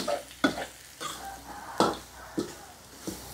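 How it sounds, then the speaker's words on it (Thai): Seasoning being stirred by hand into Thai palo braised pork leg, with five-spice powder, salt and sugar in the pot; repeated scraping stirs and light sizzling come in uneven bursts, close and moderately loud with no talk. "คนคลุกเคล้าให้เข้ากัน"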